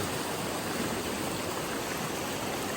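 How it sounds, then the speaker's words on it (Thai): A waterfall in Surin, Thailand flows strongly, giving a steady, even rush of water with no voices over it. "ช่วงนี้น้ำเยอะหน่อยครับก็จะไหลเชี่ยวหน่อยครับ"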